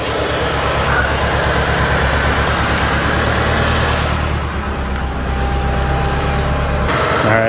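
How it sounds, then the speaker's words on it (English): A 1989 Winnebago LeSharo motorhome engine idles loudly up close with a steady low rumble, its tone shifting partway through as the idle surges. "it's idling, but it has a surge."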